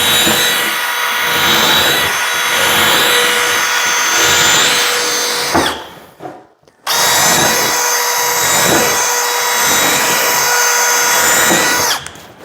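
A power drill bores pilot holes into a cabinet during installation, two long loud whining runs close by, split by a brief pause before the motor spins up again.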